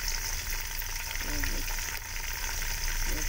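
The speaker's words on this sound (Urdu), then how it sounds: "یہ فرائی ہو رہا ہے" Meat frying in a pan with onions, chicken for aloo gosht salan, a steady, loud, close sizzle running unbroken throughout, with faint stirring beneath.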